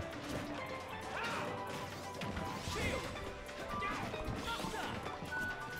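Smash attacks land in Super Smash Bros, Steve against Shulk, as a dense run of crashing, whacking hits over busy game noise and music, fairly steady and close throughout.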